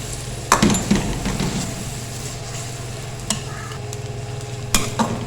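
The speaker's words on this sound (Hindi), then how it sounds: "प्याज को हम सिर्फ सौते करेंगे ताकि इसका जो कच्चापन है वो खत्म हो जाए।" Onions sautéing in a pan for pepper chicken karahi, a low steady sizzle with occasional spoon scrapes and clinks against the metal, close by with no talking.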